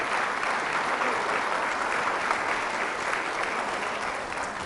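Sustained, dense applause from a church congregation during a healing service, steady and loud throughout with no talking over it.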